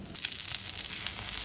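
Pointed gourd (potol) frying in mustard oil in a covered pan, a steady, even sizzle with a bright hiss throughout and no voices.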